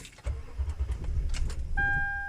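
A 2010 Toyota Tundra engine cranks without starting, a close, low, uneven churning that keeps going, joined near the end by a steady electronic warning chime.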